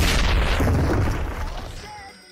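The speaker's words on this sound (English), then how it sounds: "These explosions, bro." A single heavy explosion in the video game ABA booms loudly and rumbles, its roar fading over a couple of seconds.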